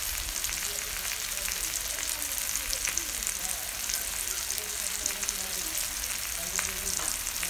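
Spices with salt, turmeric and cumin powder frying for egg curry, a dense close sizzle that crackles steadily throughout, with faint stirring scrapes beneath it.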